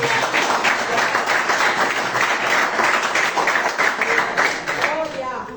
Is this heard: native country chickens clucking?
no